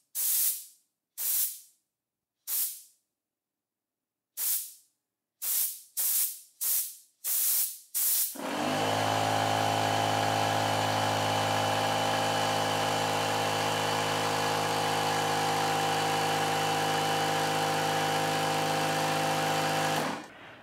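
An INGCO CACLI2003 battery-powered air compressor gives several short sharp air-release bursts, then starts up and runs steadily to refill its tank. The motor holds a loud, continuous buzzing drone with hiss for about twelve seconds before cutting off.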